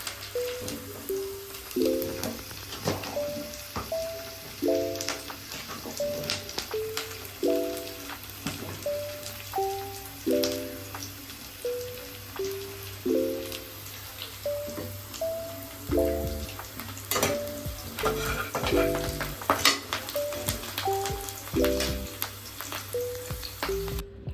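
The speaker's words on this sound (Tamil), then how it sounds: "நல்லா வெங்காயம் நல்லா வதங்கிடுச்சு" Onions and curry leaves fry in a pan with a steady crackling sizzle, while tonal clinks and scraping from stirring sound in a regular rhythm throughout.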